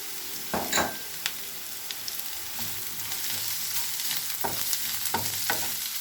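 Chopped onions fry in a pan with a constant sizzling hiss, while a spoon knocks and scrapes against the metal in a few sharp, irregular strokes.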